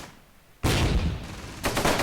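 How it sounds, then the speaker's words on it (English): A Churchill tank fires in the World War II game Close Combat, two sharp booming blasts about a second apart, the first bursting after a short quiet lull and the second landing loud and close, with no talk. "Another shot by the Churchill trying to hit the infantry unit we have hidden here."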